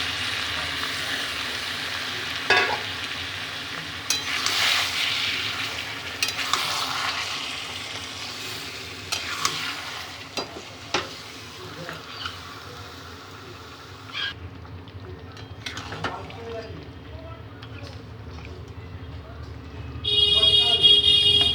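Marinated chicken hits a pan of oil and browned onions, giving a steady frying sizzle with occasional stirring clatters, ending in a brief louder burst of sizzling.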